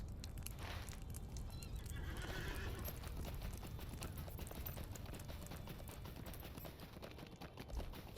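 Pony hooves clip-clop steadily through a ride in Lord of the Rings Online, a continuous close rhythmic patter with a whinny near the start and faint mechanical ticks underneath.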